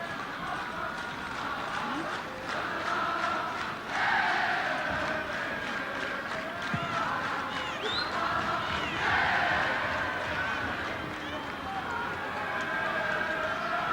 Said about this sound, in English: Well deserving the reaction from the crowd.